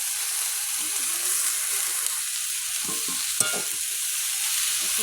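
Malabar spinach leaves fry in a pan of reddened spices, giving a steady close sizzle with a few stirring scrapes and clinks, no voices heard.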